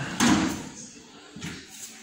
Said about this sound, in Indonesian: Sekarang kita tinggal pasang laci ya